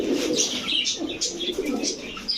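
Rajshahi Giribaz pigeons coo softly and steadily amid a flutter of other bird chirps, the low rolling calls repeating close by with no speech.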